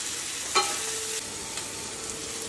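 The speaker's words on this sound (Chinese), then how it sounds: "姜，圆葱、辣椒、大蒜，葱姜蒜辣椒爆香啊。" Ginger, onion, chili and garlic stir-fry in a hot wok with a bright, steady hiss, opened by one sharp metal clank from a spatula, then a few softer scrapes; no one talks.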